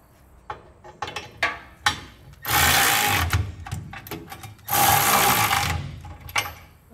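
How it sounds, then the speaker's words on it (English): A 3/4 inch socket wrench tightens the bolts on a B and W 5th wheel hitch in a 2012 GMC Sierra, giving scattered ratchet clicks and two long bursts of rapid clicking, close by with no talk. "We're going to use a 3/4 inch socket and wrench to do so."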